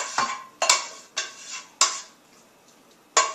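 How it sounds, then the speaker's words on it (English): Apples dropped into a 9-inch baking pan, five separate clattering impacts with pauses between, close and fairly loud, no talking. "apples into the baking pan. This is a 9-inch baking pan"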